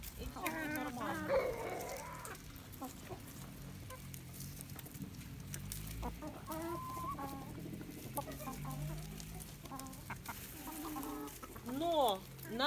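Chickens and young roosters in a backyard flock cluck and squawk through the stretch, with scattered calls near and farther off. Someone talks quietly beneath them.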